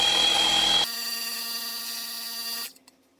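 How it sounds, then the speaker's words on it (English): Handheld power buffing tool working the inside of a tire for a patch: a close, steady high-pitched whir that drops in tone partway through, then spins down and stops. "Now with my buffing, I'm using a little bit of light pressure."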